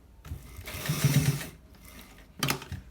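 A sewing machine stitching a single welt pocket, two close bursts of fast rhythmic mechanical whirring and clatter separated by a short pause.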